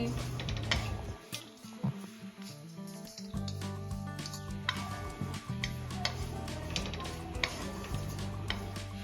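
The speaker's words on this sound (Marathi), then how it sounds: "इथे आपल्याला खोबऱ्याचं किस छान परतून घ्यायचं आहे तुपामध्ये" Grated fresh coconut stir-roasts in ghee in a pan, giving a busy mix of soft sizzling, ticking and scraping stirs that continue throughout.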